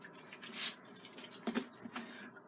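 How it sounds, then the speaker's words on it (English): Water spritzed from a spray bottle onto a thick gessoed canvas: a few short, soft hissing bursts and faint wet patters, close and quiet, with no talking. "if you spray this canvas with water"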